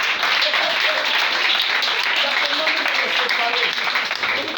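A church congregation applauding the Lord, dense sustained clapping from a large crowd filling the room continuously, with voices mixed in beneath it.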